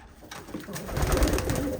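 A racing pigeon about two years old coos once, low and throaty, swelling and fading over about two seconds, heard up close with faint background hiss.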